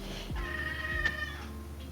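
Delilah the cat lets out a loud, drawn-out meow up close, a single sustained cry in an otherwise quiet room.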